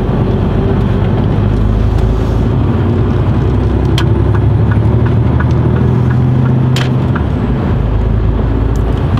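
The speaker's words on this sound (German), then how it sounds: "Wir werden trotzdem kräftig Gas geben." Car engine under hard throttle on a road, a loud, steady low roar with rumbling road noise that holds for several seconds, a few brief clicks and knocks on top.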